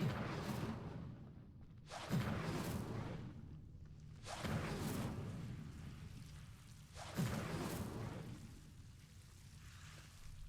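An Incendio fire spell is cast in the video game Hogwarts Legacy: three loud whooshing fire bursts, each with a sharp onset and a roaring tail, spaced a couple of seconds apart.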